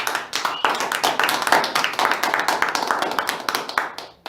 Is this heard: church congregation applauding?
yes